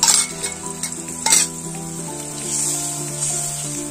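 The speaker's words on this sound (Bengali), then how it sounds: "দিয়ে আমি একটু কষাবো এটাকে" Cashew paste and beaten sour yogurt sizzling in hot oil in a pan as they are stirred and fried, with a few scraping strokes of a spoon early on over a steady close frying hiss.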